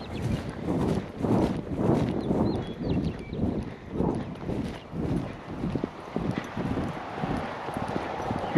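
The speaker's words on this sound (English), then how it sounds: "She just picks up to a nice easy lope." A young horse moving at an easy lope, hooves beating in a steady rolling rhythm on open ground. The beats are moderately close under light wind, with no voices.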